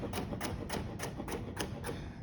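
A knife chops a carrot on a cutting board in a cooking knife-skills setting, seven crisp, evenly spaced cuts close up, with no talking.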